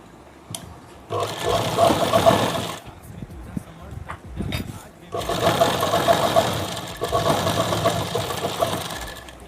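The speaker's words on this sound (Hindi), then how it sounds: "यहाँ पे एक सीधी सिलाई लगा लेते हैं" A sewing machine runs a straight seam on fabric folded over a buckram strip, two loud sustained whirring bursts separated by a short pause, close by with no talk.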